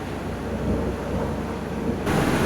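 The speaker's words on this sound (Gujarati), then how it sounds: "વરસાદ જો અમદાવાદમાં" Steady rain falling in Ahmedabad city, a dense continuous wash that swells louder near the end, with no voices over it.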